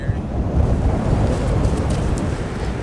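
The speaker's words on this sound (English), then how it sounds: "It's so windy." Strong wind buffets loudly and continuously at a coastal lookout, a dense roaring rush with no voices.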